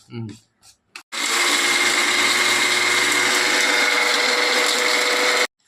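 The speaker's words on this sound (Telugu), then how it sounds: "ఈ గసగసాలు ధనియాలన్నీ మిక్సీ పడతాను." A kitchen mixer grinder whirs loudly and steadily for about four seconds as it grinds poppy seeds, coriander seeds and cinnamon, starting abruptly after a brief voice and cutting off sharply.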